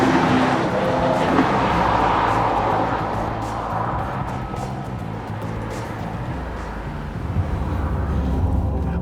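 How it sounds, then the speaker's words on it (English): A 2023 Mercedes-AMG EQE electric car drives along with a steady roar of road and wind noise from the cabin. The level eases slightly midway, and no one speaks. "We're looking at the all-new Mercedes-AMG EQE. Buckle up and let's go for a drive."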